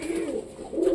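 Pigeons give a soft, low coo, close by, while drinking water at a coop in hot weather. The sound is a brief murmuring call over quiet background.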